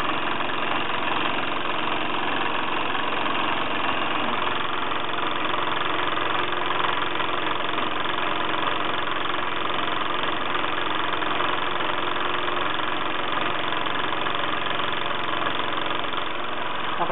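A Bowman M140 model steam engine runs steadily on and on, giving a dense, even mechanical churn with no pauses or change in level, close and moderately loud, as though it is labouring slightly.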